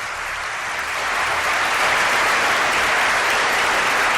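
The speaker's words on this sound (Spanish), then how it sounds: "Os pido un aplauso para él." An audience applauds at a live event about mysteries and paranormal stories, a dense, steady wash of clapping that swells after the first second and stays loud and close to the end, with no talk over it.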